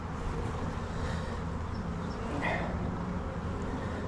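Dense, steady buzzing of honeybees at an open hive during a colony inspection, a continuous close drone with a few individual bees passing nearer, no talking.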